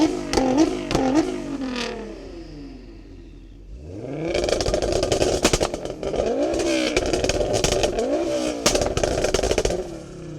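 A tuned car engine revs hard, either a 4WD Ford Focus RS or a stage 4 R35 GTR, with rising and falling revs, a lull near the middle, then repeated loud close revving with crackles and pops.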